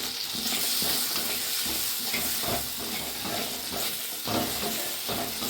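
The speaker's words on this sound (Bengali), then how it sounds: "সুন্দর ধনিয়া জিরের গুঁড়ো সুন্দর আমার মশলা কষানো হয়ে গেছে অনেকটাই" Spices with coriander and cumin powder being stirred and sautéed in a pan for a vegetarian drumstick-flower kofta, a steady close sizzle and frying hiss with repeated scraping stirs throughout.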